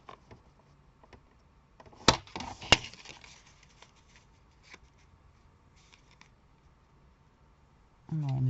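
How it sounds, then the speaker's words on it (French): Paper is cut to size for a handmade autumn pocket card, with two crisp, sharp cuts close by amid quiet rustling, followed by a louder burst of handling noise at the end. "Donc je vais couper mon papier ici à 5 sur"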